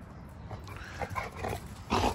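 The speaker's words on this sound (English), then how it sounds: "to play with the dog." A dog at play during an office lunch break gives a few close, short huffs, snorts and soft whines, scattered irregularly over a couple of seconds.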